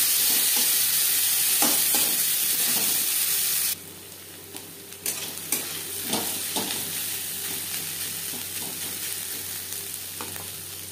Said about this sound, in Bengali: মাছ ভেজে নেওয়া তেলে পেঁয়াজ ভেজে নেব